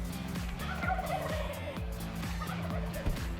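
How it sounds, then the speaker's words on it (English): Wild turkeys gobble from a nearby roost tree at daybreak, the rapid rattling gobbles repeating over and over and overlapping at moderate distance, with no talking. "the birds are gobbling from a nearby roost tree"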